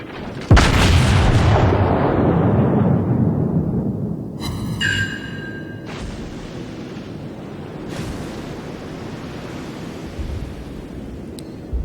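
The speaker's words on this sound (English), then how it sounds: "Next salvo, we'll switch over to fire armor piercing." Battleship South Carolina fires a heavy naval gun salvo in World of Warships, a loud deep boom that rolls off into a long fading rumble over sea ambience, followed by a few quieter distant thuds and mechanical clicks.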